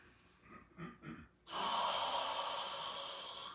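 Slow, deep breathing during a full-body stretching session: a few soft inhalations followed by one long, steady exhale that carries on close and clear.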